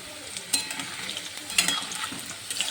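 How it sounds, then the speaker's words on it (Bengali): Potatoes fry in a pan with a close, steady hiss, broken by a few sharp scraping stirs and clinks. "আলু ভাজতে বসে দিয়েছি"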